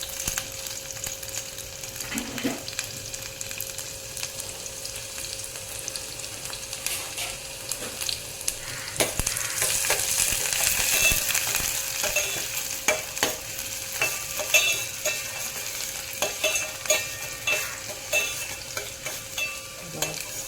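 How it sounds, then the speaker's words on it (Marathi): Chopped onion fries in oil for a Malvani prawn curry, a continuous close sizzle and crackle with frequent stirring clatter, swelling louder for a few seconds midway; no talking. "तर तेल टाकल्यावर कांदा टाकायचा."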